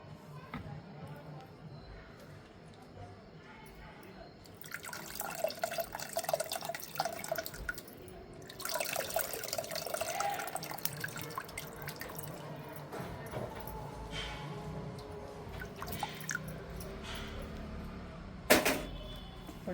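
Water poured into a cooking pot while making Andhra pappu charu, lentil-tamarind soup, heard as uneven splashing and dripping that swells in bursts, with a sharp splash near the end and a voice talking in the background.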